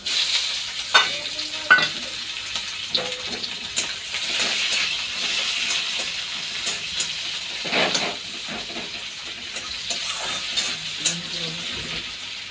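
Bay leaves and onions sizzle and fry in a hot wok while a spoon stirs and scrapes through them, a steady crackling hiss punctuated by clinks and scrapes of the utensil.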